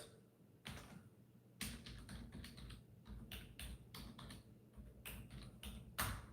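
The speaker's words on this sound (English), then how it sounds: "let me see if I can type in the email address" An email address is typed on a computer keyboard in quick, close, fairly faint bursts of key taps, with short pauses between the clusters.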